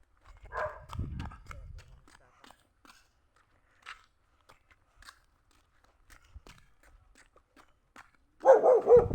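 A dog barks a few times near the start, then quiet stretches with faint knocks, and a louder burst of barking at the end.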